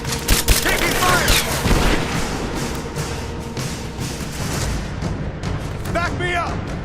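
Gunfire and explosions in a Rise of the Tomb Raider firefight, dense loud bursts and booms early that ease into a rumbling background, with shouted voices over the combat.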